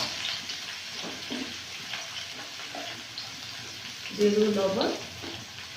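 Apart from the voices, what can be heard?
eggplant slices frying in oil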